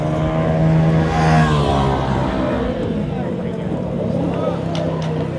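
A motorboat on the Chao Phraya river runs with a steady droning engine hum and splashing water, close and fairly loud, while voices talk over it.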